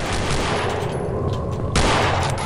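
Rapid bursts of gunfire during a police shootout in the horror video game Afraid of Monsters, a continuous loud rattle with a sharp new volley near the end, no talk over it.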